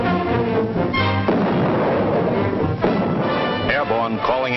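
Artillery guns fire in a WWII military battle scene, a dense, loud rumbling barrage of booms running continuously, with a voice shouting over it.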